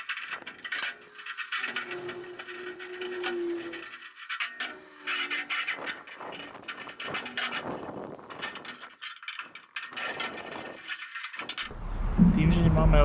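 Hand pliers snip and crunch through material at a container house build site with no electricity, in sharp irregular mechanical clicks and rasps, close and moderately loud, with a brief voice near the end.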